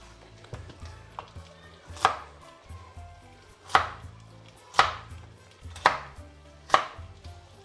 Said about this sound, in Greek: Το καρότο θα κόψουμε με το ίδιο τρόπο που κόψαμε και τις πατάτες, κύβους δηλαδή